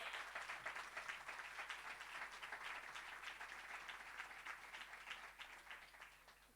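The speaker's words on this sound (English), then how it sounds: "More applause, please." Audience applauding steadily at a talk on writing an animated series, a dense wash of many hands clapping at moderate, fairly distant level, slowly easing off near the end.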